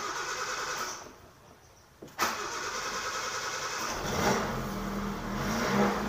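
A blue Suzuki Katana running without a thermostat cranks over from cold, a brief starter whirr and pause before the engine catches and settles into a steady, fairly loud idle.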